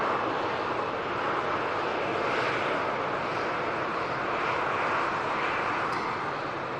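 A TUI jet airliner departs Manchester Airport for Corfu with a distant, even engine rumble and hiss that stays steady, carried on a breezy outdoor background without speech.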